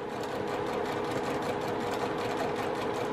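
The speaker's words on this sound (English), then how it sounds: "just chain piecing up one side and down the other" A sewing machine chain-pieces quilt fabric for scrappy flying geese sashing, a continuous fast whirring hum with rapid needle clatter, steady and close, with no talking.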